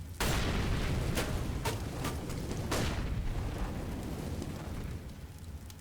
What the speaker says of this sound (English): there's a grenade there just to meet him